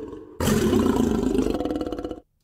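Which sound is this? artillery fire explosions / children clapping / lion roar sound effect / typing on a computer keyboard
lion roar sound effect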